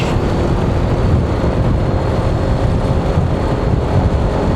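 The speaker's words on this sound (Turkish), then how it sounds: "Hala çok rüzgar var." Loud, constant rushing wind buffeting while riding a Honda Forza 250 scooter on the road to İznik, Turkey, a dense roar without pauses throughout.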